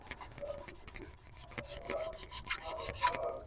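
Sandpaper rubs by hand on an engine part of a 2010 Kia Soul, giving close, quiet, repeated rasping strokes in an uneven rhythm.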